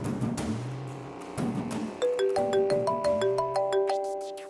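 Mobile phone ringtone chiming repeatedly in a melodic, stepped electronic pattern, mixed with a low musical underscore, steady and fairly prominent with no voices.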